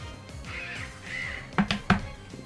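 A Mandibuzz cry from a Pokémon battle video game: a wavering, raspy, crow-like call rises and falls, then ends in a few sharp, loud screeches near the close.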